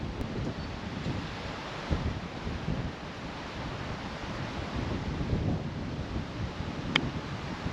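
Gale-force wind roars across an open golf course, buffeting the microphone in a steady, loud rumble with occasional gusty swells and no clear voices.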